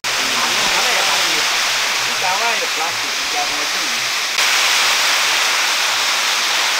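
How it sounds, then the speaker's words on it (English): Steady, loud rushing water flows from an electric pump feeding a cocoa nursery on a farm in Ghana, a constant broadband hiss with a faint voice briefly underneath. "So once they put it on, water goes to the facility and some goes to the nursery for watering."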